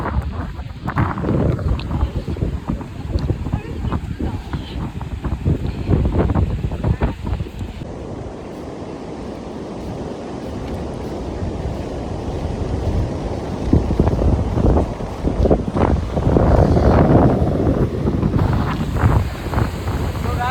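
Sea at Mandarmani beach, a loud, continuous roar of waves and surf mixed with heavy wind buffeting the microphone.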